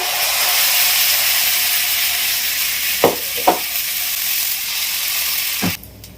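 Steady, bright sizzling of dosa batter poured on a hot pan, a continuous hiss with a few soft clinks and scrapes near the end.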